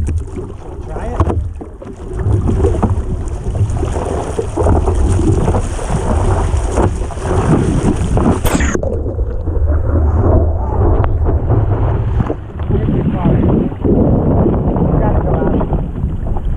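Strong wind buffets a harbor at Kawaihae, a loud continuous rumbling roar across the open air, with some faint voices mixed in beneath it.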